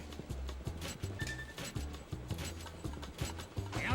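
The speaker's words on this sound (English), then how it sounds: "The horses are in the gate." Racehorses shuffle in the starting gate in the Gallop Racer 2004 horse racing game, with repeated soft hoof clops and clanking mechanical sounds looping in a steady rhythm under a faint background.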